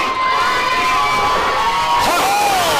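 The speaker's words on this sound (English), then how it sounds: "you can't argue with this jam-packed capacity crowd here at American Top Team Altitude" A packed capacity crowd at a wrestling event at American Top Team Altitude cheers and shouts loudly and continuously, with whoops and screams rising over the roar.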